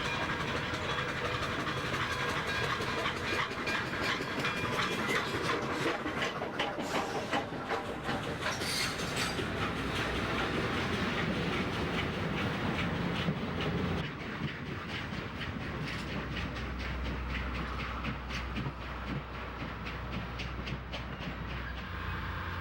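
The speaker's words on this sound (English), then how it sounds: "An eastbound daylight is arriving." An eastbound Southern Pacific Daylight passenger train of the steam era pulls into the San Luis Obispo depot, giving a sustained rumble with rhythmic wheel clatter that runs on at length without talk.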